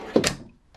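A drawer in the desk area of a 2008 Beaver Contessa 42-foot Class A motorhome slides with a single quick thud and scrape, close and brief, followed by a faint tap.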